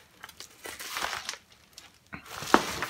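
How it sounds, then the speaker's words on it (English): Someone close by cuts into a mailed book parcel: crisp crinkling and tearing of the packaging comes in short, uneven bursts, with a sharper rip near the end. "And I'm going to cut into this."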